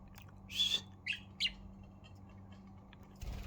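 A blue pet budgie at home gives three short, sharp chirps in quick succession close by, then falls quiet over a low steady hum of room noise, ending with a soft bump.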